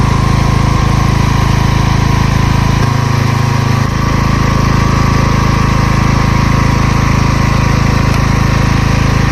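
A 10 kW petrol generator engine runs loud and close, a constant droning hum with a rough mechanical buzz, briefly deepening in pitch for about a second before settling back to a steady drone.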